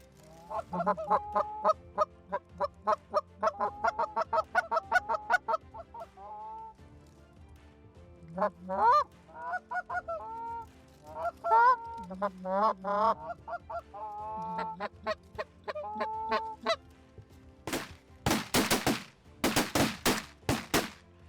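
Canada geese honk repeatedly during a goose hunt, a close, loud flock calling in bursts, followed near the end by several sharp shotgun blasts in quick succession.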